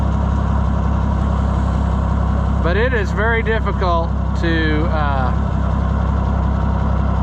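Tractor engine idling and running steadily while spreading fertilizer, a loud constant low drone throughout, with someone talking over it in the middle.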